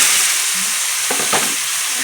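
Whole loitta fish and fried potatoes are stirred into hot masala in oil, giving a close, steady sizzle with a few scraping stirs and no talking.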